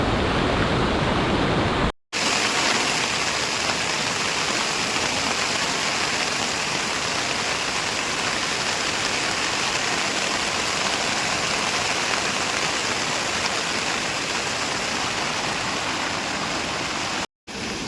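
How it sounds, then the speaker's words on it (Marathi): Heavy rain and a swollen stream run beside a camping tent at night, a dense, steady roar of falling and rushing water that stays loud and unbroken, cut only by two brief dropouts, with no voices. "बाहेर भरपूर पाऊस आहे आणि त्या वाळात पण ना भरपूर पाणी"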